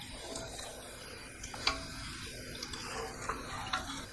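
Pickling brine of vinegar, coarse salt, water and pickling spice is stirred in a pot, with faint scraping and soft clinks of a spoon against the side, quiet and close.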